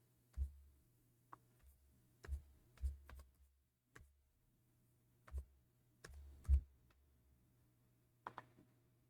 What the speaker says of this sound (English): I'll type the password.